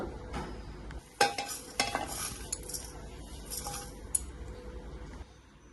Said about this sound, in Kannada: ಇವಾಗ ಇದೆಲ್ಲಾನು ಹಾಕಿ ಮಿಕ್ಸ್ ಮಾಡ್ಕೋಬೇಕು